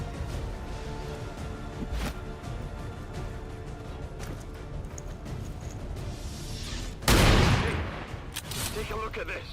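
Weapons fire at an enemy captain in XCOM 2, one sharp, loud blast standing out late against a steady bed of game ambience, with a voice talking at times.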